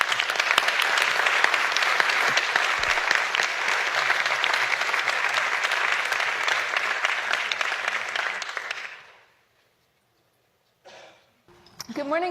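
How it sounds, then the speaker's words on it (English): A warm, sustained round of applause from a conference audience welcoming a keynote speaker at GovCon, dense and steady for about nine seconds before dying away into silence, then a voice begins. "Please welcome her with a warm round of applause."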